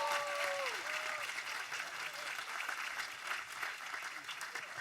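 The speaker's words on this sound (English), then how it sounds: "Let's give him another big round of applause." Audience applause at a university convocation ceremony, a steady dense wash of clapping from a large crowd lasting throughout, with a brief whistle-like tone near the start.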